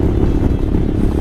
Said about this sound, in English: Himalayan engine cries.